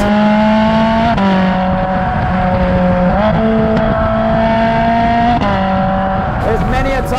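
Loud, sustained roar of a high-revving Ferrari 458 Spider engine, pitch stepping up and down through gear changes, heard close with a voice talking beneath it.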